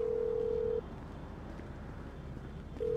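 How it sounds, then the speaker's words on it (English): A phone ringtone chimes in the Grand Theft Auto V video game, a steady tone that plays, pauses for about two seconds, then starts again over low background noise. "who changed my ringtone?"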